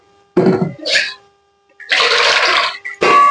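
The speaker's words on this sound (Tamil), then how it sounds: "அதனால சுடுதண்ணியே ஊத்திடுறேன்" Hot water poured into an idli steamer pot while making idiyappam, heard as several short gushing splashes separated by brief quiet gaps.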